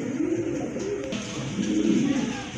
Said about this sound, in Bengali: মাশাআল্লাহ আরেক জোড়া কবুতর দেখেন, আরেক জোড়া শোকিং কবুতর